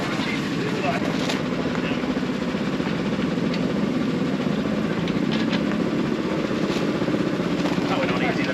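Scamp, a homemade miniature locomotive, runs on a proper track with a steady, even mechanical drone and light clattering throughout, plus faint voices in the background.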